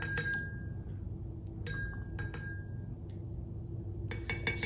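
Dish soap stirred inside a glass mason jar for an elephant toothpaste experiment, giving a few sharp, close clinks and ringing taps against the glass in scattered clusters over a low background hum.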